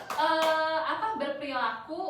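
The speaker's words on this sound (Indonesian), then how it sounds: "tepuk tangan untuk Asep." A classroom group claps for a student, the clapping brief and mixed with children's voices and sung or chanted speech over it.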